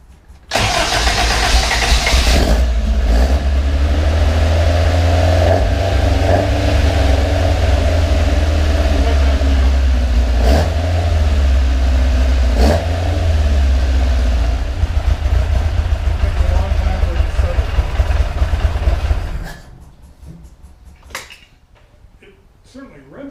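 A Caterham Seven engine starts and runs loud and close, rising and falling through several revs before cutting off, leaving near silence and a few small knocks.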